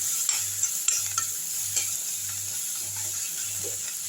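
Onion and garlic sautéing in a pan with curry leaves for a bachelor-style egg masala, a steady close hiss broken by repeated scraping strokes of a spoon stirring at an even rhythm.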